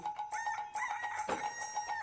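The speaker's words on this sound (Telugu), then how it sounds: "కోడి కూస్తోంది" A rooster crows in a film scene, its drawn-out cock-a-doodle-doo call ringing clearly over a soft background bed, with no talking over it.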